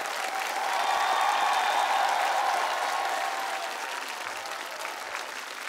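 A television show studio audience breaks into an ovation, dense continuous applause swelling to a peak in the first seconds and then easing slightly, with a faint cheering or tonal swell riding inside the crowd noise.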